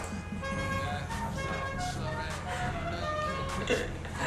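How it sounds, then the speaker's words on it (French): A custom car horn in Grand Theft Auto V sounds as a sustained tonal, musical honk over game traffic noise, moderately loud and continuous, with faint voices mixed in. "j'ai mis un klaxon spécial"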